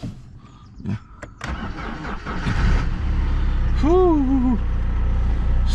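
A high-mileage BMW E90 engine cranks with a few clicks and whirs, then catches and settles into a steady loud idle, while a voice briefly talks over the start.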